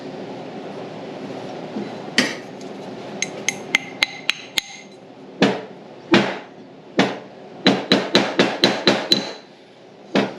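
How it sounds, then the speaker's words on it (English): Repeated hammer blows strike metal during a LeTourneau Tournapull D gearcase rebuild, sharp ringing clangs coming in irregular bursts, some quick in succession, over a low background rumble. "Get a bigger hammer."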